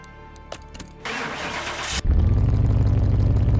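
A muscle car in Car Mechanic Simulator 2021 cranks with a few starter whirs, then catches and settles into a loud, deep, rumbling idle that holds steady to the end.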